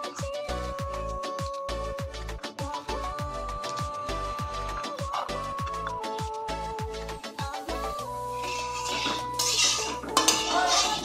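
Steel utensils and two woks clink and clatter on a home kitchen stove in quick, rhythmic metallic strikes, close and busy, before settling into softer rattles and a faint hiss.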